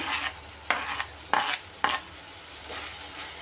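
Tomato is stirred into a frying pan, with four or five distinct scraping strokes of a utensil over a faint background sizzle, close and quiet.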